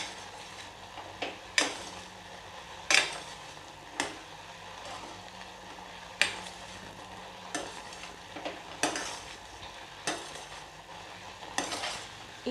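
A spoon stirs a mixture for a homemade skin-whitening night cream in a pan on a gas stove. The scraping strokes come in repeated bursts about every second or two, close by, with a faint sizzle underneath and no talk.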